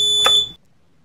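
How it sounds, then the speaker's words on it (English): A hotel elevator's alarm gives one short, loud electronic ring lasting about half a second, then cuts off into near silence. "I'll press the alarm for help."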